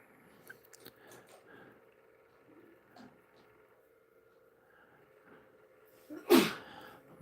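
A single sharp sneeze bursts out near the end of a quiet indoor stretch in a shop during painting work, preceded by faint small handling noises.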